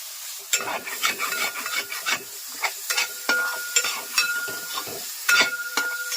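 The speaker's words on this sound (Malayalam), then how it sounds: "1-2 ഡ്രോപ്പ് കൊടുത്തിട്ട് അമ്മ ഇങ്ങനെ അരച്ചെടുക്കുവാണ് കേട്ടോ" Cumin is ground by hand on a grinding stone for a Kerala sadhya-style moru curry, making repeated close, gritty rubbing and scraping strokes in an even back-and-forth rhythm.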